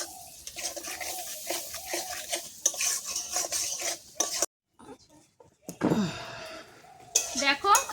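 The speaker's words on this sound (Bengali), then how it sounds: "এবার কিন্তু আমার ভালো করে মশলাটা কষিয়ে নিতে হবে যতক্ষণ না তেল ছাড়বে।" Salt and turmeric-spiced masala stirred and fried in oil in a pan, with scraping, clinking utensil sounds and light sizzle, broken by a brief pause before stirring resumes.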